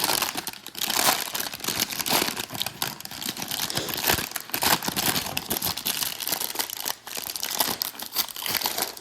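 A G.I. Joe toy package being opened, with constant loud crinkling and tearing of plastic and cardboard packaging close up, in busy irregular bursts throughout.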